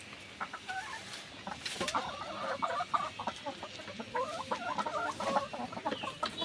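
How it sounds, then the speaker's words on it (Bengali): Layer hens cluck in a poultry shed, a busy chorus of short overlapping clucks and squawks close by, with no speech. "এর জন্য মুরগিগুলো এখানে উঠে বসে রয়েছে।"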